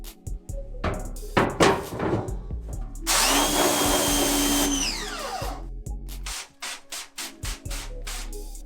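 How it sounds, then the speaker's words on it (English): A screen-printing screen sprayed down with Supreme Wash while being reclaimed: a loud, sustained spray burst of about two seconds, framed by clattering, knocking handling noises close by. "So we just sprayed it down with the Supreme Wash."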